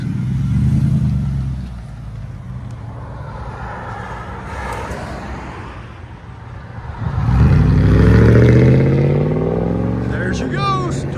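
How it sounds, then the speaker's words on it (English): A straight-piped 2004 Lexus GX 470 with 4.7L V8 and lift kit pulls away, loud deep exhaust rumble swelling as it accelerates, with talk over the engine. "GX 470 straight piped."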